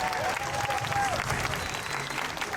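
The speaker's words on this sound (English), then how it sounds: "give them a big round" Crowd applause for winners of a boat competition on a cruise ship, a short burst of clapping and cheering with background voices mixed in.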